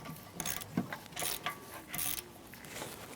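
A ratchet with an O2 socket clicks in short bursts while tightening a rear upstream oxygen sensor on a 2004-2008 Acura TL, heard close and fairly quiet.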